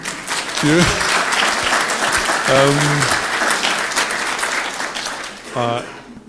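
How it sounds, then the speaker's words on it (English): Round of applause from a conference audience, dense and loud clapping held steady throughout, with a few brief voices and cheers rising over it before it starts to fade. "I think that's worth a round of applause, frankly"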